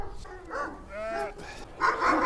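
Male Kangal dogs bark and yelp at each other, roused by a female in heat nearby, in short, uneven bursts of moderate loudness, with a harsher flurry near the end.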